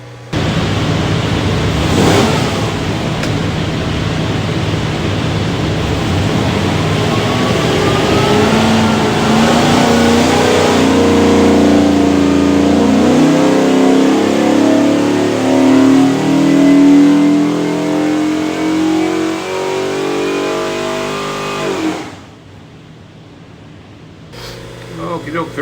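A 347 cubic inch Ford V8 with a custom-grind hydraulic roller cam, built for a 1966 Fairlane, revs loudly and steadily on a dyno, pitch climbing through a long pull before cutting off abruptly near the end.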